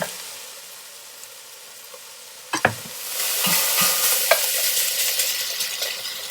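Smoked bacon and beef cooking down in a pan for boeuf bourguignon: a quiet start, a sharp clatter, then a steady close sizzle with occasional clinks, no talking.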